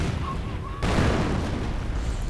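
An anti-tank gun fires in a real-time strategy game: a sudden loud boom cuts in about a third of the way through, followed by a dense, sustained roar of battle noise.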